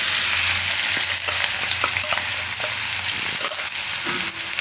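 Whole cumin, asafoetida, chillies and garlic sizzle steadily in hot oil for a Gujarati bottle gourd curry, with occasional stirring scrapes over the continuous close frying hiss.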